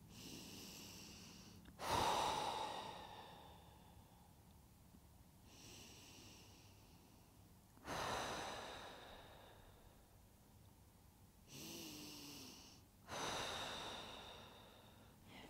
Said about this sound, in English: Let's do three big breaths here.